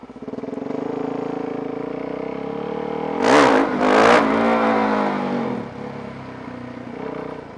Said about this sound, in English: Bike sounds all epic out between all these buildings